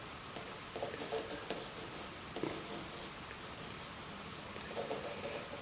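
A pencil scratches and scrapes across paper, sketching the outline of a house for a beginner watercolour landscape. The strokes come in quiet, uneven bursts with no talking.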